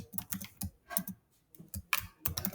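Rapid, uneven keystrokes on a computer keyboard while code is written, clustered bursts of close clicks separated by short pauses, with no talking.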